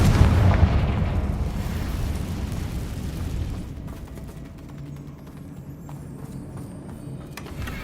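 A Confringo fire spell explodes in Hogwarts Legacy with a loud, deep boom up close. The rumble slowly fades over several seconds.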